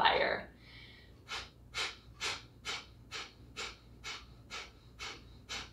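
Ten rhythmic, forceful nasal exhalations of breath-of-fire yoga breathing, evenly spaced and close, follow a brief opening breath in an otherwise quiet room.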